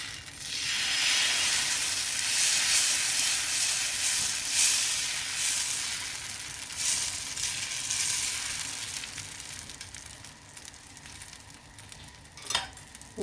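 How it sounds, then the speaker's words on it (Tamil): Wheat dosa batter sizzles and crackles steadily on a hot oiled griddle. The broad frying hiss stays loud and continuous throughout, easing slightly toward the end, with one brief sharp crackle near the close. "இப்போ தோசைக்கல்ல சூடு வச்சு நம்ம தோசை ஊற்றிக்கலாம்."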